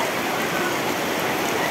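Heavy rain pours down during an outdoor quarter-final match, a steady, dense hiss that stays constant and loud throughout.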